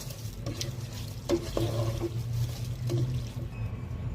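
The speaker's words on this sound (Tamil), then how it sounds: "இந்த டைம்ல நம்ம அரிசி ஆட் பண்ணிடலாம். நல்லா கலந்து விடலாம்." Rice being stirred into vegetables coated in masala in a pan, with soft scraping and clinking strokes over a low steady sizzle, close and quiet.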